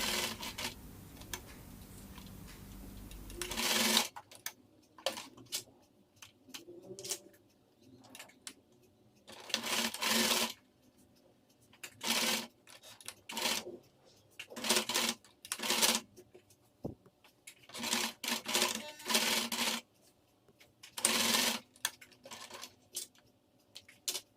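A home sewing machine stitches down both sides of a homemade cloth surgical mask, heard as separate bursts of fast mechanical chatter spaced by short pauses, close and fairly loud, with a low hum at the start.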